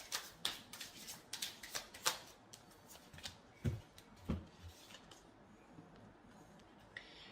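Tarot cards being shuffled and drawn, giving soft riffling flicks and light papery taps, fairly close and quiet, with the activity thinning out toward the end.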